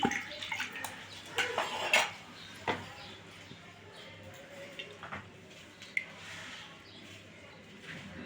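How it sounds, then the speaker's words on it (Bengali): Tap water running and splashing while a kitchen bowl is washed during fish preparation, loudest at the start and then thinning to a softer trickle, with a voice faintly in the background. "বাটিটাও ধুয়ে দিচ্ছি"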